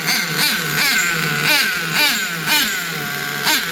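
An OFNA Twin Titan RC nitro engine runs at a steady idle, a buzzing mid-pitched drone with regular pulsing rises about every half second, close and alone with no talk.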